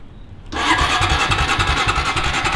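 Close by, a ranch quad ATV engine bursts into loud sputtering cranking after a brief quiet moment and keeps churning and chugging in rough, uneven pulses, never settling into a clean idle.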